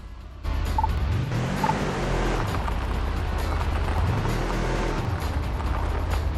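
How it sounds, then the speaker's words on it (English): Engine of a vehicle in the video game Overpass 2, driven in a training area, revving as it accelerates and then slowing as it brakes, with pitch sweeping up and down in a steady, loud drone. "Start by accelerating, then stop by braking in the marked zone."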